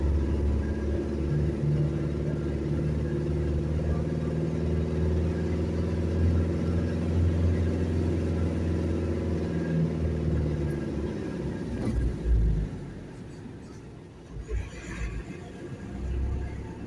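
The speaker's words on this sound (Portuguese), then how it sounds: "Caminhão 690 ano 87 da Volkswagen, baú" A 1987 Volkswagen 690 box truck loaded heavily with mineral water, its engine a loud, steady low drone that shifts and roughens near the end, with no voices.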